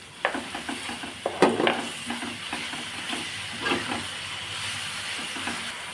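Garlic frying in a pan with onion and green chilli, a bright continuous sizzle broken by repeated close scraping and clattering stirs of a spoon against the pan.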